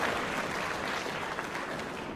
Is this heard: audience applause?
yes